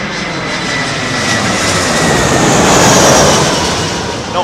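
Airliner jet engines roar steadily at London Heathrow Airport, a loud sustained broadband rumble that swells slightly midway, with no voices.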